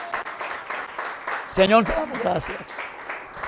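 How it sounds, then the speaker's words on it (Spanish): A church congregation applauds with scattered, rhythmic clapping throughout, while someone speaks and sings over it in the middle. "Dale un fuerte aplauso."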